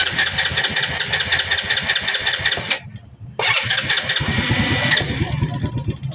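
A motorcycle that would not start is cranked and fires after spark plug troubleshooting, giving a loud, close engine roar, a brief cut-out, then a quick restart that settles into a steady idle while a voice speaks.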